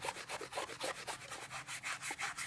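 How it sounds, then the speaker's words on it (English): A dirty SNES game cartridge is rubbed clean with quick, rhythmic back-and-forth strokes, a close scratchy scrubbing repeated steadily and evenly with no talk. "just give it a bit of a rub a few times and that will just soon clean up"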